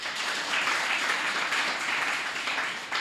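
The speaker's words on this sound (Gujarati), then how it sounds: "તાળી પાડ્યા." A gathering at a Gujarati Bible sermon applauds, giving an even, sustained wash of many hands clapping at moderate volume for a few seconds, with no speech.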